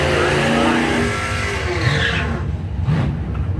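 A Gen 2 drag racing car blasts past at a drag strip with a loud engine roar that sweeps down in pitch as it passes and fades, with tire noise and a brief squeal near the end.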